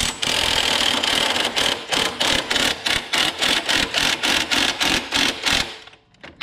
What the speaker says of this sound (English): you just want to take this and tighten it up with the gun real quick